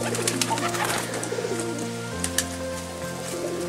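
Male pigeon cooing to court a brown female, repeated soft throaty coos in a steady rhythm, close and clear, with light pecking and rustling around.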